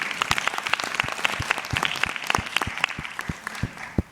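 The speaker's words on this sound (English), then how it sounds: "but let's give her a round of applause, please." An audience at a dance performance event claps in a round of applause, a dense patter of many hands with sharper individual claps standing out, steady and moderately loud.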